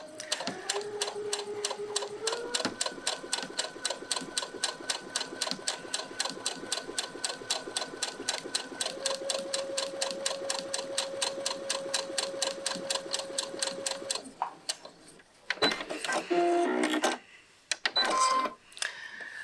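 A sewing machine runs a steady straight stitch through pieced fabric, its needle clattering rapidly and evenly up close for most of the stretch, then stops, followed by a few handling clunks and brief bursts of stitching.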